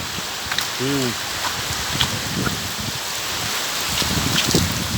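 Steady rain pours down with a constant hiss and scattered drops pattering on surfaces, with a brief voice-like tone early on.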